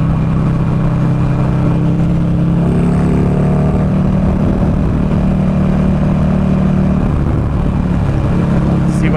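A 2009 Buell Lightning Long XB12SS motorcycle ridden on the road: a loud, constant engine roar mixed with heavy wind rush, near and sustained throughout.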